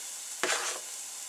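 Garlic dropped into a hot pan with onions gives one short, quiet burst of sizzle and stirring scrape that fades after a moment.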